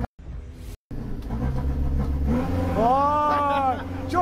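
A minibus engine revs hard in a throttle blip, the pitch swooping up and back down in arcs after a brief cut-out and a steady rumble. It sounds loud and close, with talk over parts of it.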